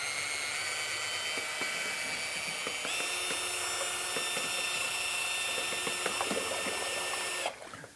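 A cordless mixing appliance blends hazelnut Nutella ice cream with a steady high-pitched motor whine and a rattling churn whose pitch shifts partway through, then stops abruptly.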